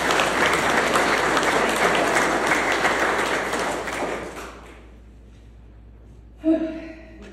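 A roomful of people gathered for a tribute give a round of applause, dense sustained clapping for several seconds that fades away, followed by a brief vocal sound near the end.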